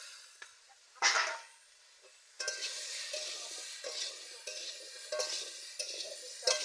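Chopped ridge gourd fries in a pan and gets stirred, a soft sizzle that swells after a sharp clatter and carries on with scraping stirs, fairly quiet and close, with no talk.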